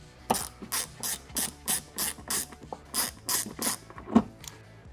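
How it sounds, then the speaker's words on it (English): A ratchet backs small T15 Torx screws out of the skid plate on a 2015-2020 Chevy Colorado ZR2, with about ten loud, evenly spaced clicking strokes close up and no talking. "we got our skid plate off and we got all our small T15 Torx hardware out"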